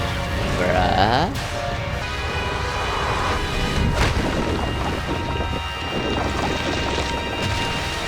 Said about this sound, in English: There's a lightning storm going on at the same time.